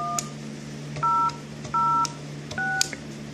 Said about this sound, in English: now we're going to go ahead and put in our extension number we're going to assign to this phone